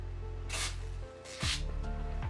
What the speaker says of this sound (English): I'm going to take some of our, the Sprayway glass cleaner, and I'm going to spray this onto some paper towel.